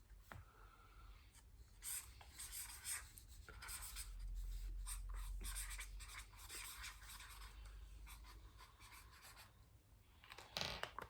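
A pen scratches across paper in a continuous, close stream of quick strokes and scribbles for about eleven seconds, faint and with no talking over it.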